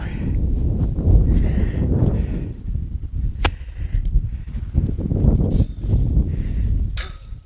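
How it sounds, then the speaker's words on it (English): A young horse in training moves about with heavy hoof thuds and shuffling, giving a few sharp whinnies and snorts, close and fairly loud, with faint talk in the background. "that's just showing you that there is a real horse here."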